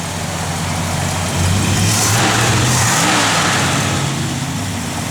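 A 1968 Plymouth Road Runner engine with a mild cam rumbles nearby and revs up, a deep throaty growl swelling then settling back to a steady idle.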